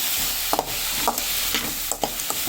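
Soft sizzling of vegetables sautéing in a pan for vegetable rava kichadi, with a few scraping stirs at intervals, a steady low hiss underneath the brief clinks.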